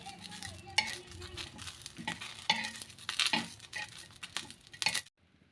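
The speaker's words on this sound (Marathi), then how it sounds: "मस्तपैकी मिरची आपल्या भाजल्या आहेत आणि आवाज देखील येत असेल" Green chillies roasting on a hot griddle (tava) crackle and sizzle up close, with scraping and stirring strokes and small pops before the sound cuts off abruptly.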